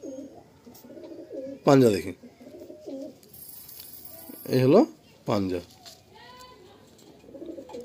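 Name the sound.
female pigeon cooing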